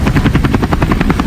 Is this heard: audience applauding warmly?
no